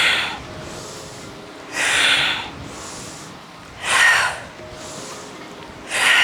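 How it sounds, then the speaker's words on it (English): Deep, slow breaths during a yoga-mat power workout: three strong, airy inhales or exhales at roughly two-second intervals, each swelling then fading, heard close and alone against a quiet hiss. "Deep inhale and exhale."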